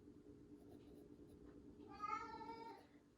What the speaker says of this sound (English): my kittens want to go outside